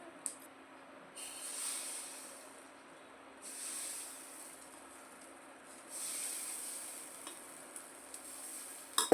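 Appam batter poured into a hot pan for Kerala-style appam, a quiet hiss swelling and fading in a few soft bursts with faint clinks, no voices.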